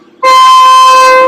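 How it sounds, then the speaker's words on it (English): A Class 31 diesel locomotive horn sounds one loud, sustained two-tone blast lasting about a second, then cuts off cleanly. "Hit the horn."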